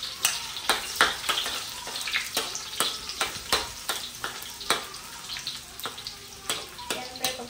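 Garlic sautés in hot oil for pansit bihon, a loud, close, continuous sizzle broken by regular scraping strokes of stirring roughly every half second.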